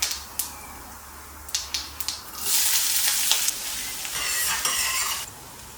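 Onions and cumin seeds frying in sesame (gingerly) oil for a paneer gravy: a few sharp clatters, then a steady loud sizzle with bursts of crackle close by.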